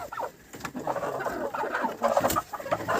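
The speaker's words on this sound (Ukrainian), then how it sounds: "полетів півень, півень полетів" A rooster clucks and squawks in bursts, with flapping wings, loud and close, against farmyard background noise.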